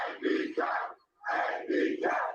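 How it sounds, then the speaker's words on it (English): Huge crowd of juggalos cheering and chanting in two loud, rhythmic bursts separated by a short silence, the roar dense and close. "That is a fucking huge crowd of happy juggalos for ABK right there."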